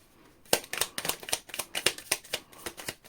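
Tarot cards shuffled by hand in a rapid run of crisp riffling slaps, about a dozen close, sharp bursts after a brief quiet start.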